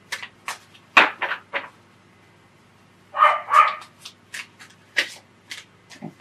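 A dog barks outdoors in a handful of sharp, separate yips spread across several seconds, fairly faint and distant, with a louder cluster in the middle and no talking.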